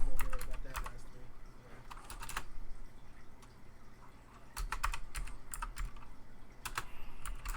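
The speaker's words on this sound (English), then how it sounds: "Gotta love mechanical keyboards" Rapid clicking bursts of typing on a mechanical computer keyboard, close and fairly loud, coming in uneven clusters with short pauses between them over a low background hum.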